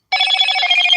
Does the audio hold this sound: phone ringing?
yes